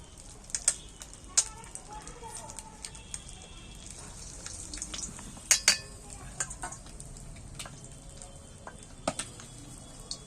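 Battered eggs are lowered one by one into hot oil, bringing a faint sizzle punctuated by sharp clinks and taps of utensils against the pan, with a voice talking at times.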